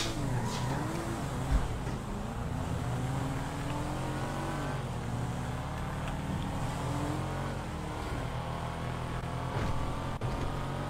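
A car engine in a GTA roleplay game drones steadily while driving against traffic during a race, a continuous mid-level hum with slight revving swells and no talk.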